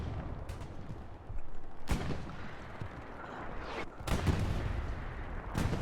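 Machine gun fire in the online shooter Hell Let Loose, with loud rattling bursts and sharp reports that stand out against a dense, rumbling battlefield wash.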